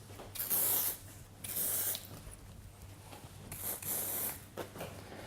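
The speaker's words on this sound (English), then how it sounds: "we're going to now gently spray this product through the" Several short bursts of hissing spray of volume product onto hair roots, close by, pausing between each puff, with soft rustling of hair in the gaps.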